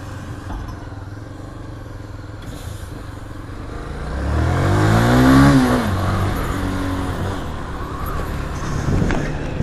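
A truck passes close by on a town street in Santana de Parnaíba, its engine swelling to a loud rumble with a falling pitch sweep, then fading into steady background traffic.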